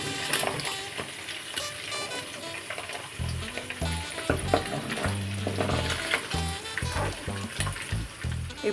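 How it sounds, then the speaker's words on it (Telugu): Raw prawns fry in hot oil for a raw banana prawn curry, with a continuous crackling sizzle close by and occasional lower thumps and scrapes from the pan throughout. "బాగా నూనెలో ఫ్రై చేసుకున్నారండి"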